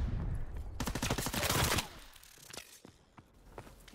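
Call of Duty WW2 gunfire: a loud, dense burst of rapid automatic shots in the first two seconds, then scattered fainter shots and footsteps.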